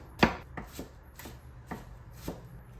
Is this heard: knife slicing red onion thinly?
yes